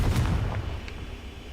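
Hogwarts Legacy video game Confringo blasting spell goes off as a single deep boom with a short crackling burst, then fades into a low rumble.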